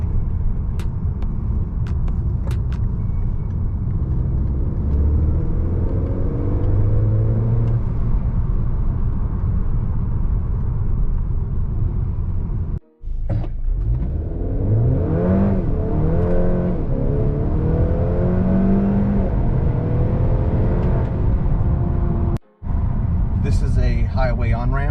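Honda Accord 2.0T running a Stage 3 Ktuner tune pulls hard up a highway on-ramp, its engine tone rising through the gears with two brief cuts at shifts, loud and close inside the cabin.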